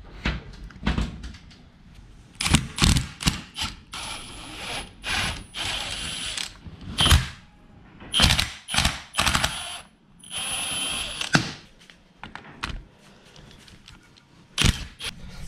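Ratchet clicking as it backs out 12mm bolts from the transfer selector on a 40-series Land Cruiser transfer case, in repeated loud bursts of rapid ratcheting with brief pauses between, no talking.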